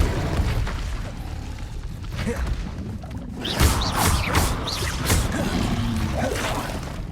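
Confringo blasting spell explosions in Hogwarts Legacy, several sharp bursts after a rumbling stretch, loud and close, with crackling debris between impacts.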